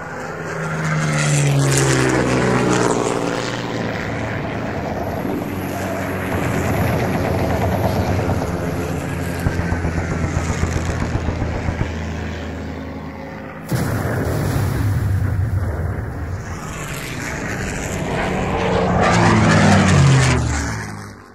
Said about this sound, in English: There's going to be a dogfight over Skegness.